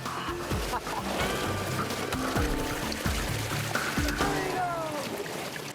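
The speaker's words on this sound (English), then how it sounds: "the water rushes in" Water rushing into a sinking car's cabin, a continuous loud pouring and churning wash with occasional thuds, heard close up while people talk.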